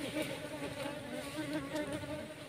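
Apis cerana honey bees swarm at their nest, giving a dense, continuous buzzing drone that rises and falls slightly, close to the microphone, with no talking.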